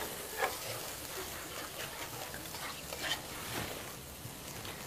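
Eggplant sizzling in a hot pan with cumin and dal, a continuous soft frying hiss and crackle with a few brief knocks, moderately quiet and close, with no speech.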